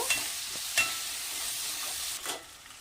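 Garlic paste, chopped onion and ginger paste frying in oil with bay leaves and whole garam masala, a steady close hiss of sizzling broken by a few sharp scrapes of stirring, no voices.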